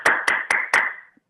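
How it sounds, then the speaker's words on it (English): Four sharp hand claps at a steady, even pace, close and fairly loud, each ringing briefly before the next. "I clap."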